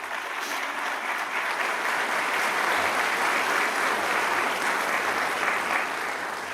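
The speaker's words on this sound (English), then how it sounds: "Let's give them a well-deserved round of applause" Audience applause at a College of Pharmacy white coat ceremony, dense steady clapping from a large crowd that holds at an even level throughout before easing slightly at the end.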